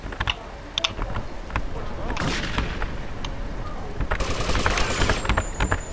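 Gunfire into a wall in GTA Vice City, repeated sharp shots and bursts mixed with loud keyboard clatter, steady and close throughout.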